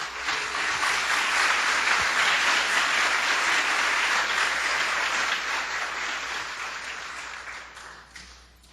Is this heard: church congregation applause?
yes